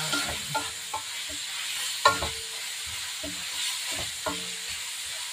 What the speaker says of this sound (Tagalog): Halo natin yung bawang at saka ginger or loya para matanggal yung lansa ng meat